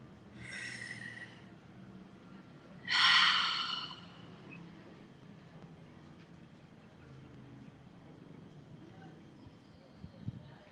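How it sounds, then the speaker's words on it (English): A guided meditation with two audible breaths near the start: a breathy inhale, then a louder, longer exhale like a sigh, followed by quiet room tone and a faint knock near the end. "take a nice deep breath with me"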